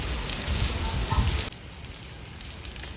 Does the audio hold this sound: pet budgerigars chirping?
no